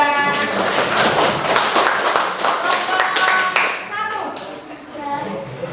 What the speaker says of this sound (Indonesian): akan tepuk tangan untuk nomor 3